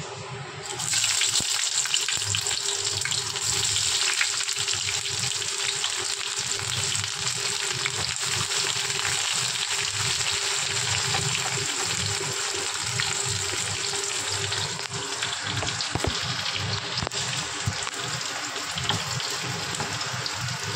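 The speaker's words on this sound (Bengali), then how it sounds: "পেঁয়াজটাকে একটু ভেজে নেব, খুব লাল করব না, তবে একটু রঙটা যাতে পাল্টে যায় সেই অবস্থা অবধি ভাজবো" Chopped onion frying in oil: a steady, dense sizzle and crackle that holds evenly at moderate loudness throughout, close up and with no talking.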